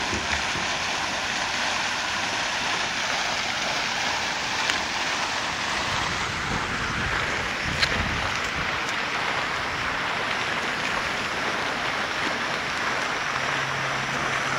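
Water rushes in a steady, even hiss, constant and fairly soft, with no voices over it.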